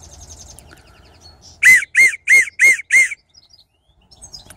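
A homemade willow bark whistle gives five short, shrill, evenly spaced toots, loud and close, with near silence around them.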